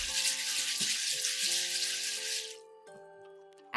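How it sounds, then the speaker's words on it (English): Water splashes from a tap into a pot to rinse rice for Japanese-style cooking, a loud hissing pour that stops partway, leaving light clinks and faint swishing of grains, with no talking. "Add a small amount of water and gently swirl the rice with your fingertips."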